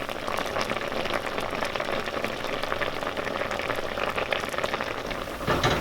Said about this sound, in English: So our plums are cooking for about 10 minutes.